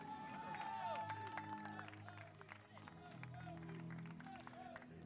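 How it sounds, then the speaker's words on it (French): Crowd applause at a blind football match as Mälarhöjden and St. Pauli enter the field in France, steady clapping and cheering spread across the stands, with babble and a voice talking over it throughout. "on peut les applaudir bien fort, s'il vous plaît"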